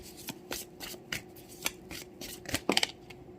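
Tarot cards being shuffled by hand at close range, a series of soft papery riffles and slaps that end in a quick burst of crisp flicks.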